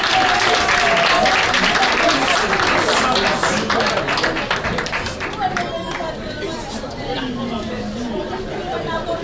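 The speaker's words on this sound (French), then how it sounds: "Encore des applaudissements, s'il vous plaît." Applause and cheering from an audience at a regional literature pageant, with crowd chatter, loud at first and gradually thinning out.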